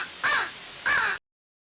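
Two harsh, crow-like caws from a sampled duck whistle in a Game Boy chiptune song made with LSDj, each lasting about a third of a second, close and fairly loud, then silence.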